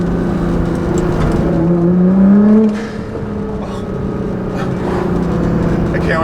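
A 2015 Nissan GT-R with Meisterschaft exhaust, tune and GFB blow-off valves, engine droning loud and close from inside as it pulls, pitch rising then dropping off before settling to a steady cruise.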